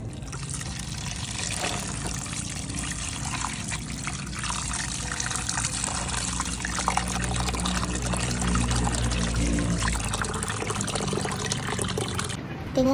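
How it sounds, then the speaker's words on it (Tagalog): Shrimp being washed under a running tap, with water pouring and splashing steadily throughout at moderate volume and a short pause near the end. "So first of all, huhugasan muna natin yung ating shrimp."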